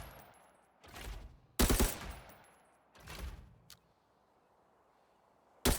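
Bursts of automatic gunfire in Arena Breakout striking body armor: four or five loud, rapid volleys separated by short pauses, sharp and close, with quieter rattling between the strongest bursts.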